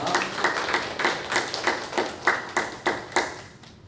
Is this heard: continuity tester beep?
no